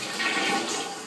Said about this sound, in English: You can flush so many different things, like this collection of hair clippings.